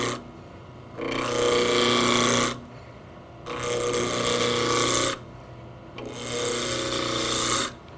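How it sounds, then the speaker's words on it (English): A spindle roughing gouge cuts a wooden blank on a lathe in three separate bursts, each a loud, bright rasping shear lasting about one and a half seconds over a low motor hum, with short quieter gaps between them. "Begin turning with a spindle roughing gouge, just roughing the end of the blank down to a cylinder."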